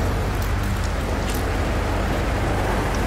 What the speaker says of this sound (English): There's some really nice superheated rainstorms here.